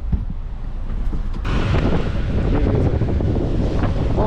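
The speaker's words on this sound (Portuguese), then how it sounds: "Tá um pouco de vento." Strong wind buffets the microphone outdoors at a seaside town, a steady rumbling roar that grows louder partway through, with no talk.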